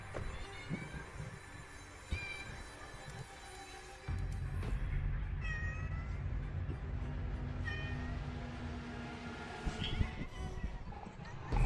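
A cat meows several times over a low, rumbling background hum during a Rainbow Six Siege gaming session, the cries rising and falling at irregular intervals.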